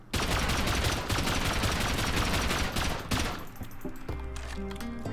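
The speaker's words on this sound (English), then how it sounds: "So we'll continue with the explosive rounds, why not?" Explosive rifle rounds fire in Rust as a loud, rapid, continuous volley of crackling blasts lasting about three seconds, followed by a tonal in-game sound; no one speaks.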